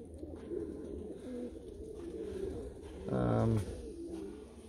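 Tiger grizzle and Meuleman racing pigeons coo in a loft, soft low cooing throughout with one louder, close, throaty coo near the end, and faint background noise.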